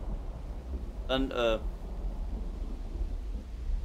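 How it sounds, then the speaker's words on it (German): Steady rain and a low rumble of thunder in the video game Uru: Complete Chronicles, a constant wash of rainfall with a brief spoken word breaking in near the start. "So Regen, Donner, ich mag sowas."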